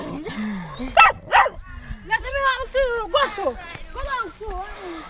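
Several sharp dog barks and yips burst out close by on a small island, mixed with whimpering tones, while people talk over and between them.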